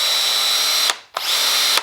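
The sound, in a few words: Festool T18 cordless drill running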